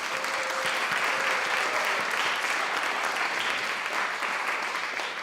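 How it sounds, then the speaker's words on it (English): Sustained, dense applause from a theater audience at an 80th birthday arts celebration, a steady wash of many hands clapping at even loudness throughout, with no talk over it. "Please join me in another round of applause for NYT's founder, Stephen Stearns"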